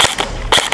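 An M4A1-J9 gel blaster toy rifle with metal gears fires two sharp, loud shots about half a second apart, each a crisp snapping pop with no voices.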